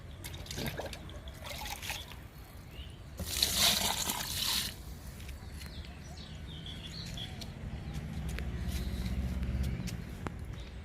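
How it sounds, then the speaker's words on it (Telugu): Liquid fertilizer poured onto a sapota plant in a home garden, a soft steady trickle and splash of liquid on soil and leaves, with a brief louder gush partway through and faint birds in the background. "సపోటాకి లిక్విడ్ ఇస్తున్నా, 2 ఇస్తాను."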